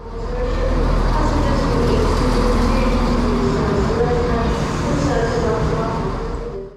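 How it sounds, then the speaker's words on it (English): A CrossCountry Turbostar diesel train bound for Nottingham rumbles past at a station, a steady loud engine drone and wheel noise swelling and holding throughout with no talk. "A few trains came before ours, including this CrossCountry Turbo Star bound for Nottingham"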